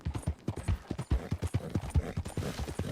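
A horse's hooves clip-clop in Red Dead Redemption 2, a quick, steady four-beat trot of dull thuds, close and moderately loud, with no speech over them.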